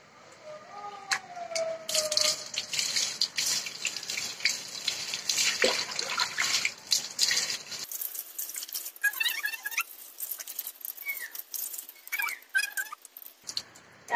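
Hair being rinsed with rice water in a home hair-care routine against dandruff and hair fall: steady splashing and trickling water, with faint squeaky tones and a sharper, brighter wash of sound in the second half.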